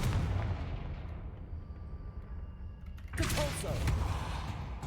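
A Confringo explosive spell goes off in the game Hogwarts Legacy, a booming blast that decays into a rumbling tail, then a second sharp burst of crackling impact near the end.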